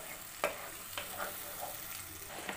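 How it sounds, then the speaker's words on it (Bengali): Spice paste of onion, ginger and garlic for chicken kofta curry being stirred and fried in a pan: a steady low sizzle broken by a few sharp spoon scrapes, close and moderately quiet, with no voices. "এবার আমি মশলাটাকে খুব ভালোভাবে কষে নেব।"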